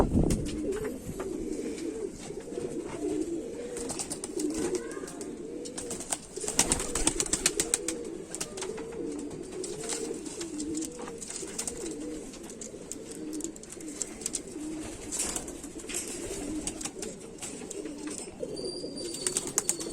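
A steady chorus of repeated, rolling coos comes from a flock of Kamagar (Kamangar) pigeons, close and continuous for the whole stretch, with scattered sharp clicks and rustles on top.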